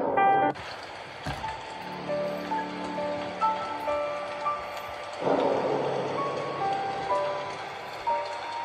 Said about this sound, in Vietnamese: Ngoài trời thì đang mưa